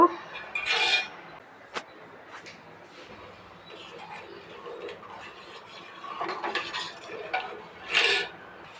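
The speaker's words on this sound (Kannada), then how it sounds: "ಲೋ ಫ್ಲೇಮಲ್ಲಿ ನೀಟಾಗಿ ತಿರುಗಿಸ್ತಾನೆ ಬೇಯಿಸ್ಕೋಬೇಕು ಇದನ್ನು" A thickening paste stirred in a pan on a low flame, scattered scraping and clinking of a utensil against the pan in irregular strokes, close and moderately quiet, with a few sharper knocks between them.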